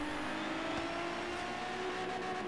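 The Quartz Regalia 723 in a video game hums with a steady, smooth engine drone at constant pitch, a sustained close whir with no gear changes and no talking over it.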